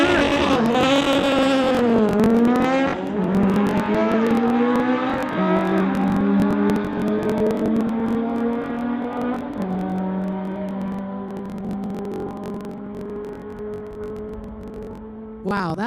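A Lamborghini and a Volkswagen Beetle drag race at a street legal event, engines loud and near, climbing through gear changes in rising and dropping sweeps, with a commentator talking over the roar.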